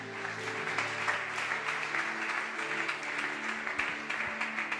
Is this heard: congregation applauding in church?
yes